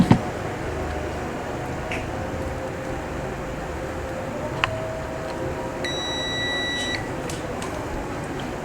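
A continuity tester buzzer on an Acer A514 laptop circuit board gives one steady, shrill beep lasting about a second, alone over faint background hiss with a few small clicks.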